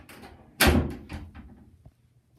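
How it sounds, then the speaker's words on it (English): A hotel room door closes with one sharp thud and a brief rattle of the latch, followed by a fading knock and then quiet. "Let me close the door here."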